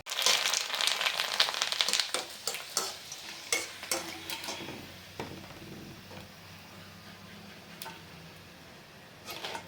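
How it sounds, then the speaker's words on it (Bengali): Chips fry in hot oil with a dense, crackling sizzle, loud and busy in the first few seconds, then settling into a quieter simmer broken by scattered sharp pops. No one speaks. "আপনার চিপসগুলো ভেজে নিচ্ছি"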